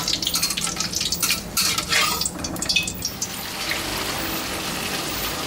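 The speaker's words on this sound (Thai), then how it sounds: "ทอดปลาดุกนะครับ เราจะทอดให้กรอบ" Catfish frying until crisp in reused oil, a steady close crackling sizzle with brief bursts of popping early on, continuing unbroken throughout.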